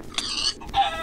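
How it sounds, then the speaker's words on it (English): Video game chickens clucking, with two short bright squawking calls in quick succession, loud and close, with no talking. "These chickens are killing everybody."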